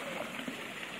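Hot spring water fed from the mountain flows steadily at a resort, a continuous close rushing wash with no breaks and no voices.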